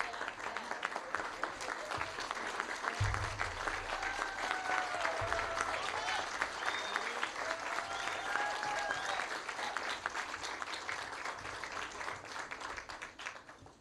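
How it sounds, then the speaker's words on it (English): A standing ovation for Governor J.B. Pritzker at a groundbreaking for the New South Suburban College Allied Health and Nursing Center: sustained, loud crowd applause, with voices murmuring faintly beneath the clapping. "Stand on your feet and give this governor a round of applause."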